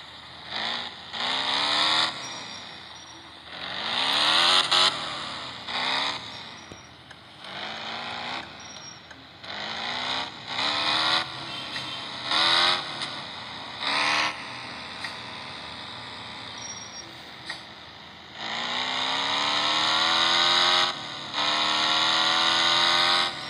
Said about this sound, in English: As you can see, the car reached 100 speed very fast.